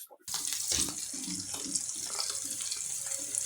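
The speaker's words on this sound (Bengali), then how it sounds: "একটু হালকা ভাজা হোক।" Fish frying lightly in a pan gives off a steady, soft, hissing sizzle that runs evenly the whole time with little change.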